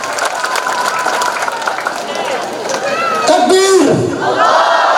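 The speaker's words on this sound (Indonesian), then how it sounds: "tepuk tangan paling meriah untuk beliau" A big crowd at an open-air Islamic religious gathering in Musi Rawas Utara roars with clapping and loud collective shouting, a single voice rising above the dense, steady noise.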